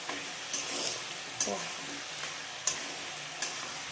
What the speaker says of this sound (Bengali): এইগুলো একটু ভাজছি জিরে আদা ফোড়ন দিয়েছি